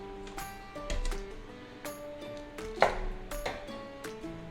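A knife cuts scallions diagonally on a cutting board, giving a dozen or so sharp, uneven chops, some clustered and some spaced out, close and clear with no talking.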